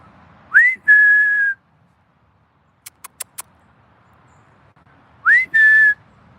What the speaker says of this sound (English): Let's see if this whistle works.